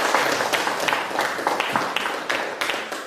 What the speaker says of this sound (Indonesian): Boleh kita kasih aplaus untuk kelompok 2?